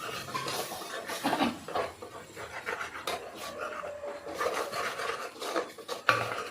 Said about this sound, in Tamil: அரைச்சி வச்ச வெங்காயம் தக்காளி பேஸ்ட்டை போட்டு நல்லா வ பச்சை வாசம் போகிற வரைக்கும் வதக்கிடணும்